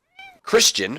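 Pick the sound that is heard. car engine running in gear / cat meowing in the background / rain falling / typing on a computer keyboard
cat meowing in the background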